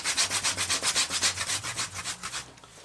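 A knife strop is scrubbed clean with coarse 60 grit abrasive: about fourteen quick, rhythmic rasping back-and-forth strokes, close and steady, tapering off at the end.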